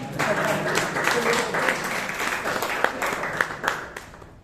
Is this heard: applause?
yes